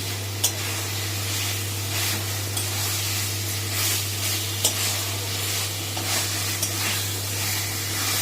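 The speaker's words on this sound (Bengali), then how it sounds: "আলুটা দিয়ে তারপরে মশলার সাথে একটুখানি কষিয়ে নিয়ে জাস্ট একটু নাড়াচাড়া করে নিয়ে" Potatoes frying in a pan with spices, a loud continuous sizzle broken by repeated stirring strokes and scrapes close by.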